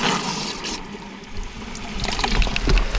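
Pool water is drawn out through a hose by a pump, giving a continuous gurgling, splashing flow with a low rumble, steady and close, with no talking.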